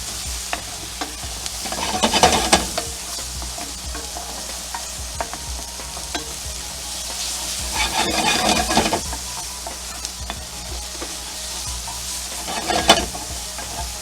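White mushrooms sauté in a pan of canola oil with a soft, steady sizzle, while a utensil stirs and scrapes them in three rough bursts spread through the stretch.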